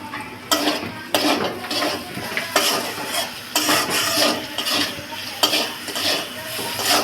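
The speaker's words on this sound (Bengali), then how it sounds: "আলুটা লাল করে ভেজে নিতে হবে।" Potatoes frying in a pan, a soft sizzle under repeated rhythmic stirring and scraping strokes with clinks of a metal utensil, close by and fairly steady across the whole stretch.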